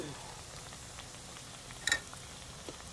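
Cauliflower pieces fry in a pan for a Sicilian fried cauliflower dish, giving a faint, steady sizzling hiss with a single brighter clink partway through.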